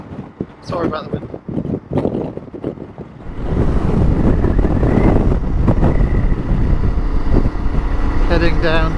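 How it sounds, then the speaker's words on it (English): Strong wind buffets the microphone for most of the clip, a loud continuous roar during a motorcycle ride in Patagonia, with a person talking under it at the start. "The wind is horrendous."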